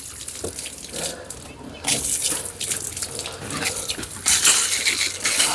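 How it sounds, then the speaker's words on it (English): Water splashes from a hose onto a potted monstera plant and its soil, an uneven spraying and pattering that rises and falls in bursts, with brief talk in between. "I'm going to hose it down, compact the soil, and same time wash my hands."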